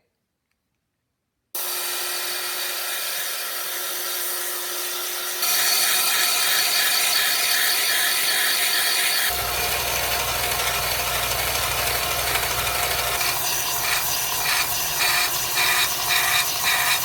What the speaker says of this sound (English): I'm going to take these 2 pieces and sand them down and make them more round and smooth. And I'm going to do that by using the belt sander.